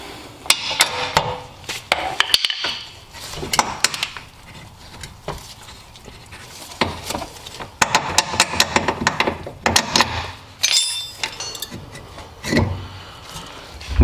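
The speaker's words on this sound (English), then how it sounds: "Now I'm going to go ahead and remove the other bolt." Removing a front strut bolt on a 2006-2011 Toyota Camry: close, irregular metallic clanks, taps and ratchet-like clicks from tools on the car's suspension, busy and uneven throughout.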